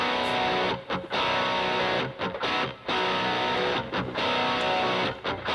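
Heavy distorted baritone electric guitars tuned down to B chug out the main rhythm riff of a metal intro, loud and dense, broken by short rhythmic stops.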